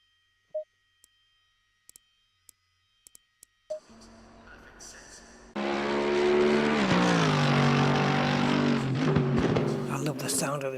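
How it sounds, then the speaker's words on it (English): A race car engine in the Assetto Corsa Competizione racing game starts after a few quiet clicks, then roars loudly and steadily, its pitch rising and shifting as the car accelerates and changes gear. "I love the sound of this car."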